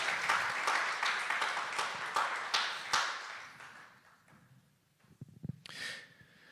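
Church congregation applauding during a Spanish-language sermon, a dense patter of clapping that gradually thins out and fades, followed by a few scattered louder claps and a brief breathy sound near the end.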